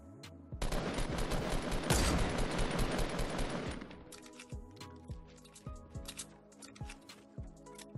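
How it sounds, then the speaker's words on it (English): Rapid automatic gunfire in Fortnite Battle Royale: a dense burst of shots for about three seconds, then sparser single cracks and short volleys with metallic ringing, fairly loud and without talk. "He's shooting at me."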